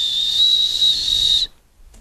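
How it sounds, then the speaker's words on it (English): A zookeeper-style whistle: a single sustained whistled tone, close and fairly loud, held steadily for about a second and a half before stopping abruptly. "then we have a zookeeper whistling"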